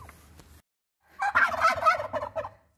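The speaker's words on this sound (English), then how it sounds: "So Kiwi's the one that's making the noise now, the shorter one" A turkey gobbles in a rapid, warbling burst after a brief pause, close and fairly loud, with a few faint clucks beforehand.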